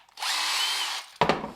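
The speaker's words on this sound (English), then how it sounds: "the impact driver" A JCB cordless impact driver running in one steady, close, high-pitched whir lasting about a second, then a brief rattling burst as it stops.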